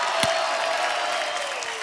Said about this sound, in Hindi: धर्म पाजी एक बार जोरदार तालियां बनती है।